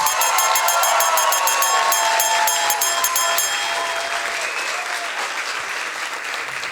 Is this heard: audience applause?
yes